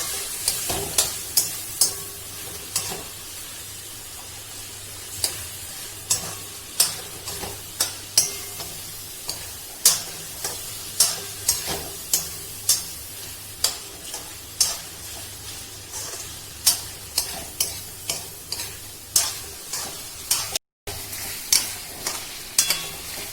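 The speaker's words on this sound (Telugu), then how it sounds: "ఈ రొయ్యల్ని 5 నిమిషాల పాటు నూనెలో వేయించుకోవాలి" Prawns frying in hot oil for an Andhra-style shrimp fry, a steady close sizzle broken by frequent sharp crackles and pops, with no talking.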